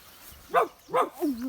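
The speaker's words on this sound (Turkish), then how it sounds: "köpek geldi arkadaşlar" A dog near a mountain plateau strawberry patch gives three quick, short barks close by, the last one softer and drawn out.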